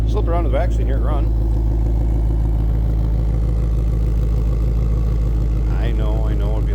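A 2022 Ford Mustang Shelby GT500 Heritage Edition with the Carbon Fiber Track Pack idles from behind with a deep, steady, loud rumble. A person talks briefly over it at the start and near the end.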